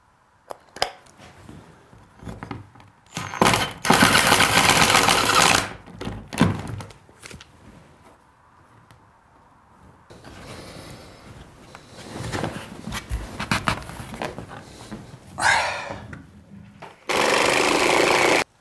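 A power drill bores holes into a wooden climbing wall. Loud, close bursts of drilling come with pauses, knocks and handling noise between them, and a final burst ends the sequence.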